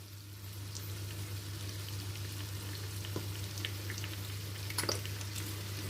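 Chicken, onions and capsicum sizzle steadily in a pan as soy sauce is stirred in, with a few soft clinks and scrapes of stirring near the end.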